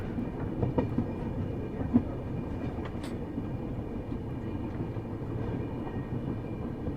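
An Indian Railways train runs through snowfall in Jammu and Kashmir, a steady low rumble of wheels and carriages heard from inside, with faint rhythmic clacks and no talk.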